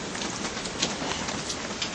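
Heavy rain pours steadily and close, a dense even hiss with scattered louder drops striking a surface, no voices over it.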